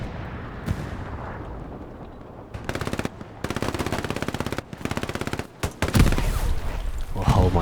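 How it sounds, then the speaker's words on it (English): PPSh submachine gun firing in a World War II video game, rapid automatic bursts crackling in quick sequence with brief pauses, loud and close, other gunfire and game noise around them. "Oh my god, a PPSH"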